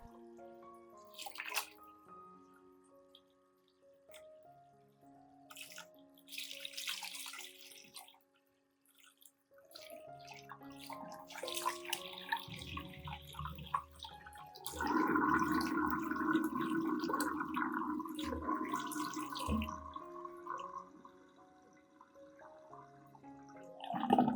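Orchid roots rinsed under running water to clear old growing medium, with splashing and trickling that come in irregular bursts and grow into a steadier pour in the second half, under background music.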